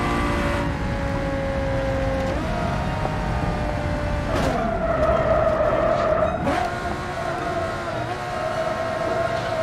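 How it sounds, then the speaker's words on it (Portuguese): In the BeamNG.drive multiplayer driving game, car tires with a locked wheel skid steadily and loudly, with a whining engine tone underneath that shifts pitch several times. "a roda travou, velho"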